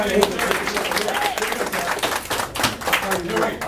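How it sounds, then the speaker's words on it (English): A round of applause from a small crowd at a real-estate wholesale pitch event, brisk clapping mixed with chatter and voices, moderately loud and close, with talk continuing over it. "Give a round of applause."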